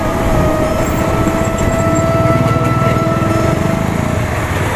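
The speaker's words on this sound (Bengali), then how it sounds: "বাইক চালাচ্ছি।" A motorcycle engine drones steadily while riding on a cold day, a close, loud, continuous buzz with slight pulsing and wind rush, no talking.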